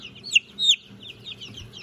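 A young Silkie hen makes a few short, high clucks and squawks close by, in quick irregular bursts over quiet background.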